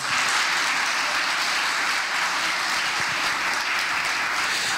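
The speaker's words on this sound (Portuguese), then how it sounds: "Uma salva de palmas para a noiva, ela está nervosa." Wedding guests in a church applaud the bride, steady sustained clapping from a large crowd that fills the space evenly throughout, with no talking.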